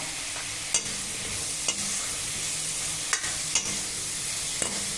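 Chopped tomato sautéing with salt in a pan for Chettinad pumpkin kara kuzhambu: a steady soft sizzle with a few sharp clicks of a spoon stirring against the pan, close and alone without talk.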